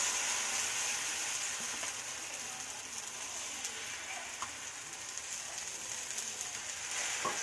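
Batter sizzles in hot oil in a pan, a steady dense crackling hiss heard close up, with no one speaking over it.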